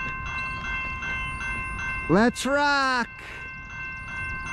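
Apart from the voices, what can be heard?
freight train approaching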